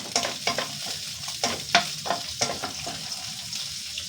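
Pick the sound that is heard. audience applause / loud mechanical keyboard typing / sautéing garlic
sautéing garlic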